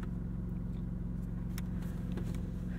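A 2023 Maserati MC20 drives along canyon roads, its engine a steady, loud drone heard from inside the cabin, with a few faint higher clicks and whooshes over the constant low rumble.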